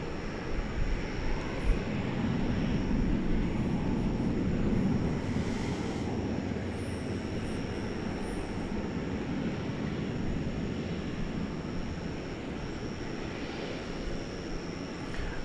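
A jet airliner rolls for takeoff at DFW Airport, its broad engine roar building early and then holding as a steady distant rumble mixed with wind noise.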